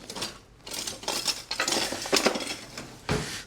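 Salt gets whisked into homemade hot sauce, a rapid, close metallic clinking and rattling of a whisk against a bowl that runs in uneven bursts.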